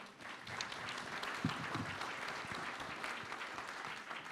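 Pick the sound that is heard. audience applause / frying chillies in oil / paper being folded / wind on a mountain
audience applause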